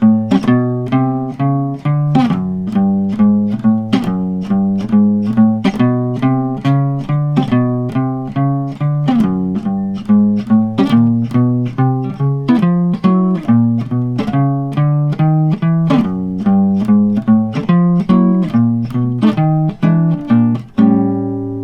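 Steady plucked notes of a walking bass line in even beats with chords layered over them, a 12-bar blues pattern played continuously and loud, with no talking.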